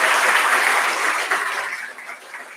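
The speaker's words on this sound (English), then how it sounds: "Give yourself a round of applause for that big smartness that you guys have." An audience at a grand finale event gives a round of applause, dense clapping that starts strong and gradually tapers off over a few seconds.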